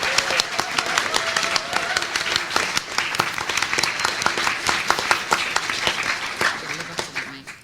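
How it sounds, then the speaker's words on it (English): Live podcast audience clapping for a guest's introduction, a dense, lively burst of many hands with sharp individual claps standing out, sustained for several seconds before tapering at the end. "Please clap your hands for the one, the only,"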